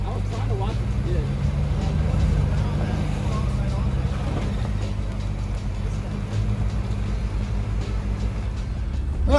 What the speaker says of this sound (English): Some really bad noises that we were hearing coming from that truck